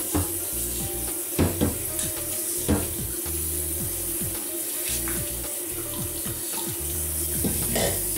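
A bathtub drain scrubbed with a cleaning stick of thick paper wrapped on a disposable chopstick, close wet scraping and rubbing with short splashy strokes over continuous running water.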